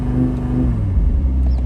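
A 2021 Audi R8 Spyder supercar revs while stationary, its engine and big oval exhaust giving a close, loud roar that falls off in pitch as the throttle is released.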